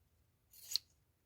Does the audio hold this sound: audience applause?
no